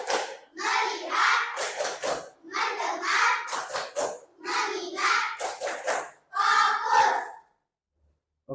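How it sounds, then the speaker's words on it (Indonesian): Schoolchildren in a classroom do a rhythmic clapping game, with bursts of patterned claps and chanting voices in four rounds before falling silent. "Nah, sekarang tepuk fokus. Kita mulai tepuk fokus."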